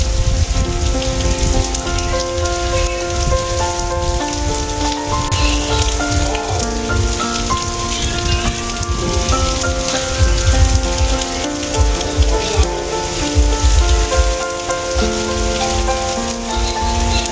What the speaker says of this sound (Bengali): জোর বৃষ্টি পড়ছে।